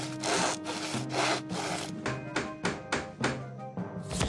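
Cartoon sound effect of a handsaw cutting wood while a Viking ship is built, with steady back-and-forth strokes followed by quicker rasping cuts, close and clear with no talking.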